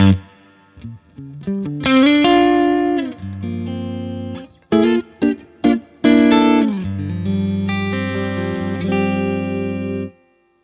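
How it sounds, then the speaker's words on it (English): Distorted electric guitar through a PRS Sonzera 50 combo amplifier with its spring reverb at about halfway plays a few sustained chords and short stabs, notes ringing out with a lingering reverb tail. "Very pretty reverb, total kind of classic spring sound that we've got."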